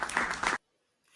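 An audience applauds with a brief, dense burst of clapping that cuts off abruptly into silence.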